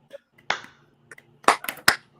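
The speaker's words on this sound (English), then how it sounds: "I'm gonna give a golf clap for that." A slow golf clap at a 100th-episode celebration gathering: several soft, sparse hand claps spaced apart, close and moderately loud with no talk over them.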